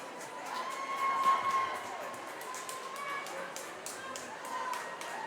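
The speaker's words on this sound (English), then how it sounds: "A little cheer goes over the crowd here for Haddonfield." A crowd at a girls' high school swimming championship meet gives a modest, steady cheer for Haddonfield, with scattered claps and shouts in an echoing indoor pool hall.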